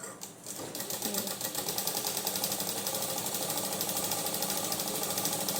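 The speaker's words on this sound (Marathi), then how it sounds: "आता आपण ह्या खालून साईडून थोडीशी शिलाई मारूया." A sewing machine stitches a blouse lining along its lower side seam, running in a steady, fast mechanical patter close to the mic after a brief quiet start, continuous to the end with no talking.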